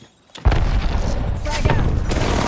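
An Arc Star grenade bursts in a video game, a sharp close impact followed by crackling, sputtering electrical bursts and booms.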